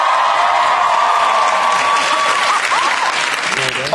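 Studio audience at a British TV show cheering loudly and steadily, a dense roar of applause and shouts that fills the whole stretch, with a brief whistle rising near the end.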